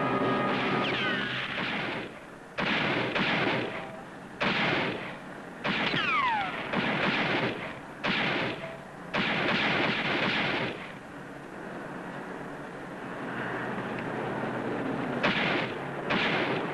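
Gunfire rings out in a crime drama scene, loud sharp shots arriving in repeated bursts separated by brief pauses, with a steadier stretch of noise toward the end.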